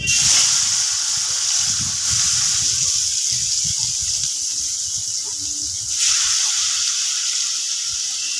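Boiled bottle gourd and potato hitting a hot oiled pan with turmeric, a loud sustained hiss and sizzle that swells again partway through, with low clatter underneath.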